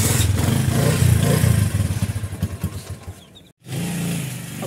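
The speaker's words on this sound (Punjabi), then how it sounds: "ਹੁਣ ਮੈਂ ਮੋਟਰਸਾਈਕਲ ਬਾਹਰ ਕੱਢਣਾ" A motorcycle being wheeled out of a house and started rumbles with a low, clattering engine note, pulsing unevenly as it revs, cutting out briefly, then settling into a steady idle up close.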